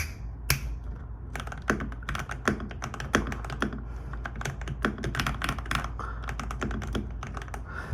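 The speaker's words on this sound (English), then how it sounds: "this is what the board sounds like after it is lubed" Steady typing on a Wormier K87 clear mechanical keyboard with switches lubed in Krytox 205 grade 0 grease, a dense run of close, soft, rounded keystrokes with no talking.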